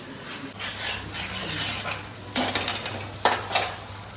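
Red chilli sauce mixture stirred in a pan at home, a spoon scraping and clinking against the metal with a few sharper knocks toward the end over low background hum, no talk.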